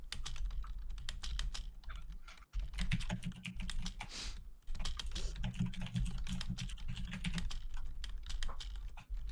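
Someone types on a computer keyboard during a D&D livestream, with a dense, continuous clatter of close keystrokes and one short pause partway through.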